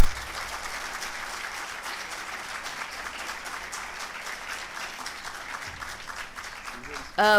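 An audience at a seminar applauds steadily for a young faculty member being introduced, a dense, even clapping that carries on for several seconds before a voice cuts in at the very end.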